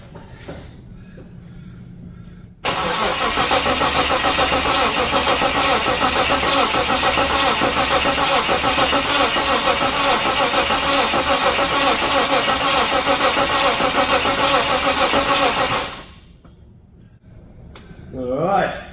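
A Holden VL Turbo engine cranks without catching, giving a loud, close, steady starter churn that holds for about thirteen seconds before cutting off, with faint talk around it.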